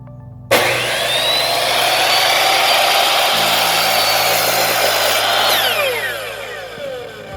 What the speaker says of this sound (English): When you're all the way through the cut, release, and it'll engage a brake on the saw.